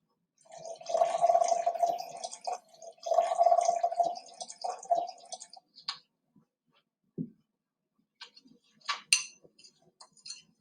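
Sand being stirred in water, heard as two gritty swishing bursts of liquid churning, followed by sparse small drips, clinks and ticks in near quiet.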